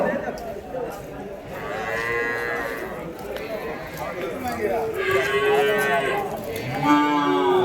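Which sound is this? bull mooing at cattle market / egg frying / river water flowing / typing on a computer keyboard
bull mooing at cattle market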